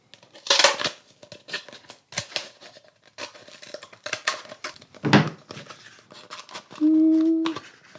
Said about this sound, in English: So I'm just going to make a few marks and cut those out.